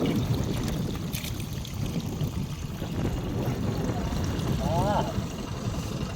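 Water poured into a 15-litre pesticide sprayer tank on a farm field, a steady, close rushing splash that runs without a break.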